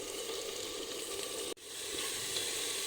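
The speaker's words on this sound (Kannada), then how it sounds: "ಎಣ್ಣೆ ಕಾದಿದೆ. ಇವಾಗ ಈ ಮಸಾಲೆಗಳನ್ನೆಲ್ಲ ಹಾಕ್ಕೊತಿದ್ದೀನಿ" Ground onion masala hitting hot oil gives a loud, steady sizzle with a brief sharp dip midway as more paste goes in, then crackling frying resumes close up.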